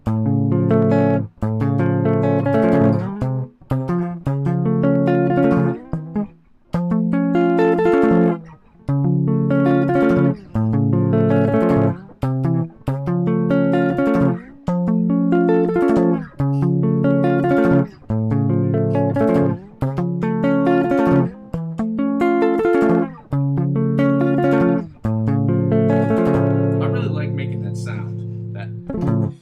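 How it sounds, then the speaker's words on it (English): Electric guitar runs a sweep picking exercise, repeated arpeggiated phrases in a loud, dense, rhythmic pattern that cycles steadily with brief gaps between passes, played alone. "It's a sweep picking thing, and I'm just working on it"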